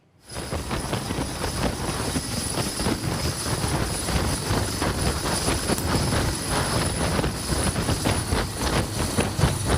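An Indonesian Air Force helicopter on an aid flight for landslide and flash flood relief in West Sumatra thunders loudly and continuously, its rotor chop and engine whine holding steady near the listener with no talk.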